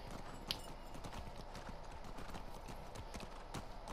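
Hooves of a horse in The Last of Us Part II clip-clop in a quick steady rhythm, close and clear, with a sharp click near the start and no talk over them.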